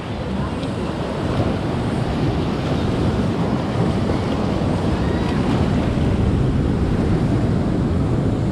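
Steady, loud roar of ocean surf beside a Northern Beaches rockpool, with heavy wind buffeting throughout and no clear talking.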